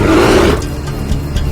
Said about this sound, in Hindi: ये तो भालू की आवाज है।